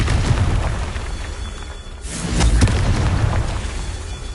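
A Confringo fire spell bursts in Hogwarts Legacy on PS5, a loud booming blast that swells near the middle of a dense, rumbling game soundscape with no voice over it.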